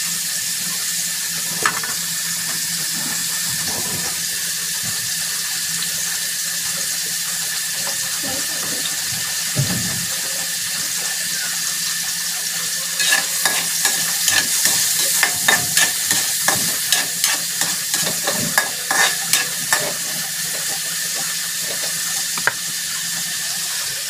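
Pork sizzling and frying in a pan, a steady hiss with bursts of crackling and popping that grow busier in the middle, close by, with no talking.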